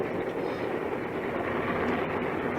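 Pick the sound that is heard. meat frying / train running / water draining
train running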